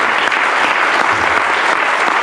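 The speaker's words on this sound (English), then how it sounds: "I'd like to give another round of applause for all of them" A continuous round of applause at a tenth-anniversary celebration, dense and loud clapping from a large audience that holds steady throughout with no pause.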